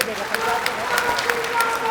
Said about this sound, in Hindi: इनके लिए जोरदार तालियां बजाइए